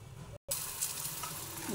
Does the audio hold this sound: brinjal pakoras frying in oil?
yes